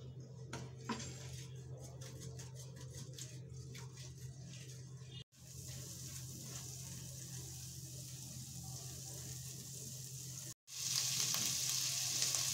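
Spices for a Kerala-style fish curry fry on low heat and are stirred, a soft, steady sizzle with faint clinks of utensil against pan, quiet and close, cut by two brief gaps.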